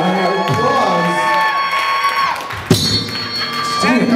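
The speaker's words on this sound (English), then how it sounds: "Give him a round of" A live rock crowd at a concert cheers and claps between songs, a loud mixed roar with shouts, thuds and a sharp bang partway through.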